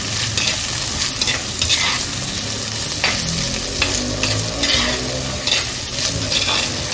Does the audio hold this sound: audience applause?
no